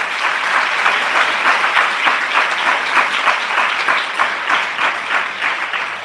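A large church congregation gives loud, sustained applause, dense and even clapping from many hands holding steady for several seconds with no talk over it.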